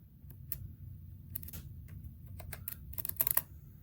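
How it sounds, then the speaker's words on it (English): A USB computer keyboard is tapped up close, with scattered quiet key clicks, including arrow-key presses, in irregular bursts that bunch together near the end. "plug in a USB keyboard, hit enter, go down to configure input, press A, use the arrow keys to select yes"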